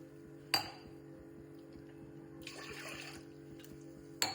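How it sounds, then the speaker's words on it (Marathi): Water poured into a cooking pot while making dal for Maharashtrian puran poli, a short rushing pour in the middle set between sharp metallic clinks at the start and end. "दोन ग्लास पाणी टाकायचं आपण."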